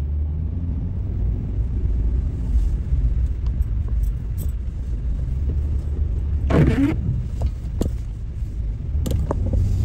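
Steady road traffic rumbling past on a rainy day in San Diego, a loud continuous wash of car noise with a few brief sharper sounds breaking through near the middle.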